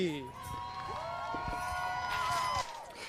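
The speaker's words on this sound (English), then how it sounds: "Peterborough, let's get loud for your champion, Mike Bradley" A speedway crowd at Peterborough Speedway cheers and whoops for champion Mike Bradley during the Autumn Colours Classic, a sustained swell of cheering lasting a few seconds that cuts off near the end.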